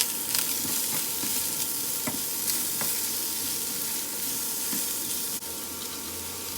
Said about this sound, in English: I'll go ahead and add the onions, carrot and bell peppers to the frying pan and cook for 1 to 2 minutes